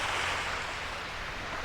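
Waves washing onto the beach at the Point at Cape Henlopen on Delaware Bay, a broad, steady rush of surf with wind over the microphone and no pauses.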